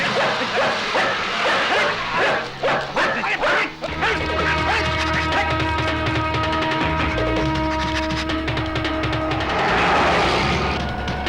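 Dog barking in a Hindi film scene: a series of loud, close yips and barks at the start, then a sustained tonal whine under steady background noise.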